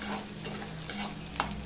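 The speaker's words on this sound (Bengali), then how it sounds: "পেঁয়াজটা একটু লাল লাল করেই ভেজে নেব।" Sliced onions fry in a pan, browning for a Bengali singi fish jhol, with a steady hiss and sizzle, a faint hum underneath and one brief clink of a utensil.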